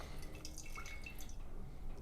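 Gasoline dripping from a generator carburetor fuel line: small liquid drips falling steadily, faint and close over a low constant background hum.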